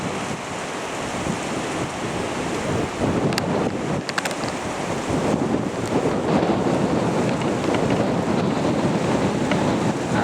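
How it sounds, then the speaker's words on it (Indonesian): Strong gusts buffet the microphone outdoors near the shore at a bridge construction site, a continuous loud roaring rumble with surging intensity and no voices. "Angin bertiup sangat kencang sekali."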